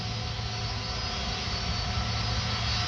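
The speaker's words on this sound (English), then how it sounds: "Obviously, this is Airbus." Airbus A330 jet taking off at Paris Orly Airport, a steady loud roar of engines with a broad rushing hiss, continuous and unbroken.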